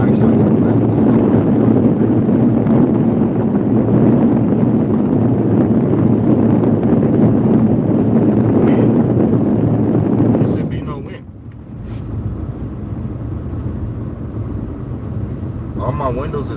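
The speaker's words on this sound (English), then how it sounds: "All my windows is up. You can hear the wind." Wind rushes against a car with its windows up, a loud, steady buffeting roar that eases after about ten seconds, while someone talks over it.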